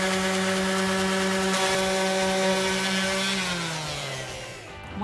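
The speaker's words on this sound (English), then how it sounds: "we're basically gonna give it a sand." A power sander works over a wooden deck in a loud, continuous drone that dips slightly in pitch as it winds down near the end.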